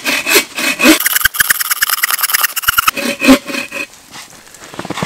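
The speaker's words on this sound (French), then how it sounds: "Je vais scier ce tronc-là en deux." A wooden log being sawn in two with a hand saw outdoors in cold weather, loud close rhythmic back-and-forth strokes in quick succession, briefly pausing before the cutting resumes.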